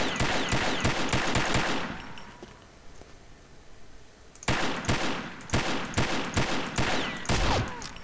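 Gunfire aimed at boxes in Combat Arms on the Blood Bazaar map: loud rapid-fire bursts, a pause of about two and a half seconds, then more fast shooting.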